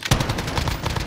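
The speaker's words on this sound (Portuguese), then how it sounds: "Tô tomando tiro ainda da janelinha." Rapid gunfire from a building window in Call of Duty Warzone, a quick burst of several loud, closely spaced shots.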